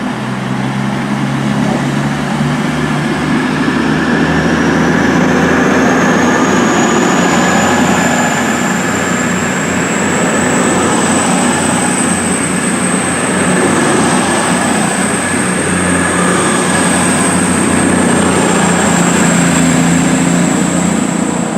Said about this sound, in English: Now leaving the 8:39 Virgin Supervisory Service to London Euston